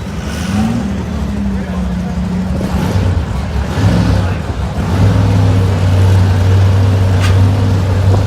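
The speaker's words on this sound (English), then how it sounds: "So here it comes, folks, the diesel engine car of John Robinson on the one Cure side" A diesel dragster engine drones and revs steadily at a drag strip, loud and sustained with rising and falling pitch, under continuous announcer commentary.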